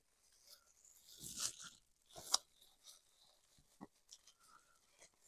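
Close eating sounds of someone sucking and chewing a garlic butter shrimp head, with a few wet crunchy bites and slurps spaced across a quiet moment.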